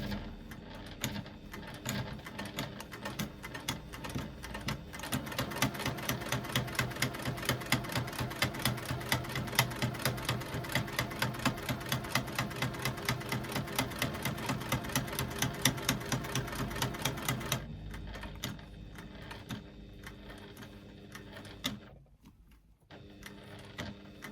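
A sewing machine stitches steadily in a fast, even rattle for a long stretch while sewing in a zipper, then stops briefly and starts up again in short back-stitch bursts.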